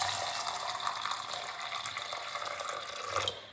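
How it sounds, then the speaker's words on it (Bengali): Red lentils are rinsed with water, a steady close splashing and running-water wash with small swishes and drips throughout, ending abruptly. "এবার ডালটাকে জল দিয়ে ভালো করে ধুয়ে নেব"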